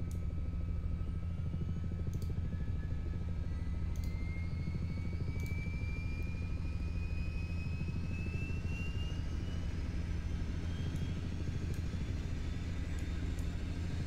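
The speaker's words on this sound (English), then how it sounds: "I want to keep flying this helicopter." A Black Hawk H-60 helicopter in Microsoft Flight Simulator drones with a steady rotor thump and a whining turbine that rises slowly in pitch. The sound is continuous and fairly loud, with no talking over it.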